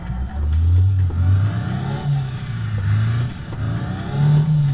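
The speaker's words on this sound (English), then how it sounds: "Hear the manly motor power of that pimpmobile." A car engine in the City Car Driving simulator revs and hums steadily in the low range, rising and falling in pitch over several seconds with no voices.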